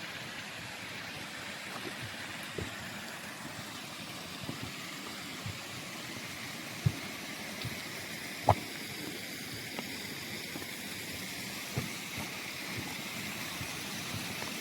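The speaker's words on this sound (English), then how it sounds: "You're drawn by the sound of water, Luna?" Soft, steady flowing water of a stream murmurs in the background, with a few faint clicks and knocks scattered throughout.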